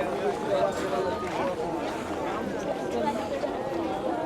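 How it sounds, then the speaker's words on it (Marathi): A dense crowd of pilgrims at the Pandharpur Wari palkhi procession fills the air with a close, continuous babble of overlapping voices and the shuffle of movement. "आज खूप म्हणजे खूप जास्तच गर्दी आहे इथे"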